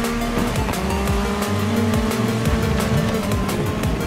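Car tires skid and squeal as the emergency brake locks up during a DIRT 5 race, over a loud, steady engine drone throughout, with no talking.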